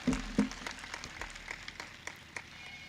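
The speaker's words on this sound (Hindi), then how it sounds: "एक बार जोरदार ताली बजाकर नौजवानों का स्वागत करने का" A crowd at a Raja Suheldev Rajbhar commemoration ceremony claps to welcome the youth team, starting with a couple of loud close claps, then thinning into scattered, fairly quiet applause.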